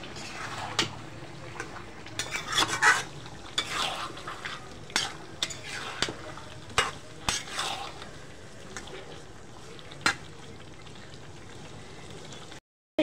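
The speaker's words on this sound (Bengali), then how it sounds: "নেড়ে দিব।" A spoon stirs farm chicken curry with potatoes in a pan, giving irregular scrapes and sharp clinks against the metal over a soft, steady simmer, with no talking.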